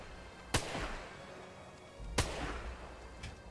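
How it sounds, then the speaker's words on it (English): Two loud rifle shots from Sniper Elite 5, each a sharp close crack with a short echoing tail, spaced about one and a half seconds apart, followed by a faint third report. "I'm just gonna take some shots here"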